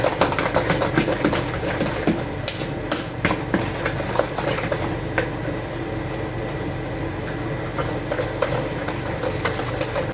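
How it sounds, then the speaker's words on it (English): An electric mixer beats eggs into cake batter in a kitchen, giving a steady mechanical whir with a rapid rattling texture that runs without a break throughout. "Go ahead and mix those eggs in really well, one at a time before you add the next one."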